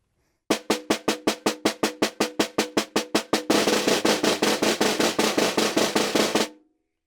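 Snare drum played with multiple bounce strokes while the stick fulcrum is held too firm: a steady run of evenly spaced, close, fairly loud buzz strokes that thickens into a denser, rougher roll toward the end, then stops cleanly.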